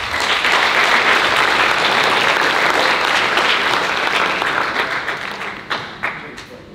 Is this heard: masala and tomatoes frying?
no